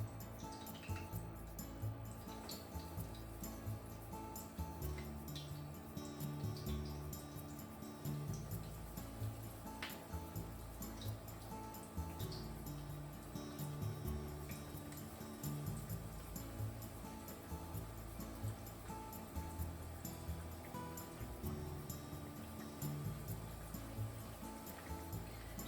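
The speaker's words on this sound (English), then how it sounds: "Let's put the chicken gently into the oil." Chicken katsu pieces frying in hot vegetable oil crackle and sizzle steadily up close, a continuous bubbling hiss with scattered pops and no voices.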